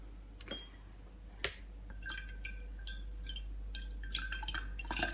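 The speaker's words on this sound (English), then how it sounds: "Now we add our grains." Water kefir grains go into a glass jar of water with small drips, soft plops and wet squishy sounds, a few sharp taps, quiet and close against a low hum.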